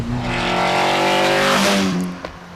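A 1995 TVR Cerbera engine revving hard, a loud close roar climbing in pitch through a sustained acceleration before easing off, with a brief mechanical click near the end.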